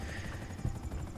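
A video game helicopter flies inside an aircraft hangar, its rotor giving a faint, steady beating whir over a low droning hum for a brief moment, with no voices.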